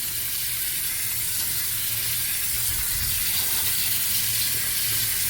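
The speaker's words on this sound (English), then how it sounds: "You're gonna want to get some cold water and rinse it off and stop the cooking process." Cold tap water rushes steadily over hot cooked pasta for a pasta salad, a continuous close hiss of spray that holds at an even level throughout, with no talking.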